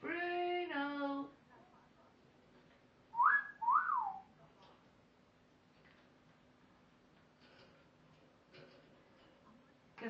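A pet parrot whistles two short rising-and-falling notes, bright and fairly loud, after a burst of its own chatter, then the room goes quiet with faint background noise.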